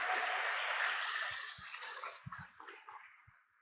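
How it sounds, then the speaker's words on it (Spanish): A church congregation claps in dense applause that gradually thins and fades out, leaving a few scattered low thumps. "Dale un aplauso de gloria al Señor."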